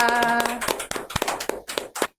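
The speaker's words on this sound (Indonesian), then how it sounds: "kita berikan tepuk tangan dulu dong untuk kakak Arta" A few pairs of hands clap in a small podcast studio at an RRI Fakfak radio session. There are sharp, uneven close claps for about two seconds, with a brief tonal voice-like sound near the start.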